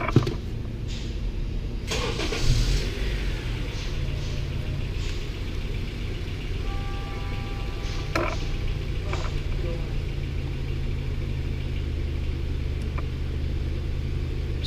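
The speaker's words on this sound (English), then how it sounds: "Let's start the engine," A Honda CR-V engine cranks and catches, then settles into a low, steady idle rumble that continues to the end.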